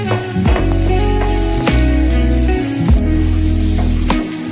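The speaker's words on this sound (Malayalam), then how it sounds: "പാനിലേക്ക് നമുക്ക് വെളിച്ചെണ്ണ ഒഴിച്ച് വെക്കാം. ഇനി നമുക്ക് ഉള്ളി ഇട്ട് കൊടുക്കാം. വഴറ്റി കൊടുക്കാം." Onions sautéing in coconut oil in a pan for a squid fry, a loud, close, continuous sizzle with rough stirring scrapes and a few sharp knocks of the spoon.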